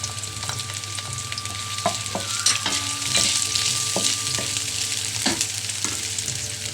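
Chicken and onion sizzle loudly in a hot pan, a steady frying hiss with occasional scrapes and clinks of a spoon stirring, close and without talk.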